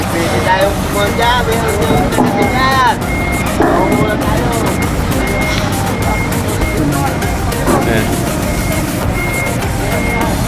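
A cargo delivery truck backs up, its reversing beeps repeating at a steady rhythm over a loud engine rumble and busy surroundings, with voices talking nearby.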